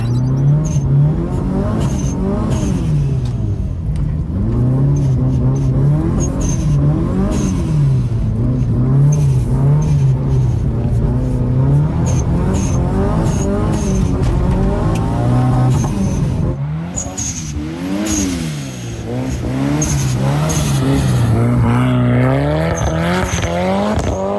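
A Mitsubishi Lancer Evolution V, an understeer-prone car, driven hard, its engine revving up and down in a steady sawing rhythm with squealing tires, loud and close throughout with a brief dip near the end.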